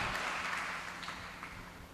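Congregation clapping loudly at a Christian worship gathering, a dense steady wash of applause with no voices over it.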